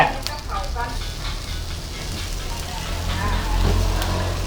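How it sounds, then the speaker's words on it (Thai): Wild-caught tapien river fish from the Chi River grilling over an open fire, a steady crackling sizzle with a low rumble beneath, close and continuous, with faint voices in the background. "ย่างปลาตะเพียนปลากระมัง"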